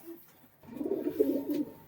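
Male pigeon of a small-boned Madras breed giving a single low throaty coo, close and clear after a brief faint note and a short silence.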